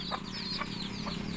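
Rooster in an Odisha village yard making short repeated clucking calls, about three brief bursts over a steady background murmur.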